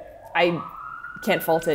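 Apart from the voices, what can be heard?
emergency vehicle siren passing outside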